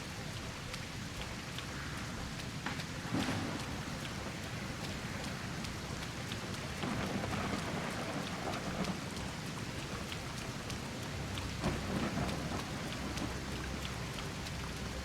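Heavy rain pours in a Sengoku Dynasty game world, a dense continuous hiss with scattered louder drops and a few soft, distant thunder rumbles underneath.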